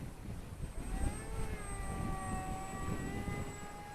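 An FPV wing powered by a BetaFPV 2004 3000kv motor on 3S flies past, its high, buzzing motor whine rising and falling in pitch over steady wind rumble, fairly faint and continuous throughout.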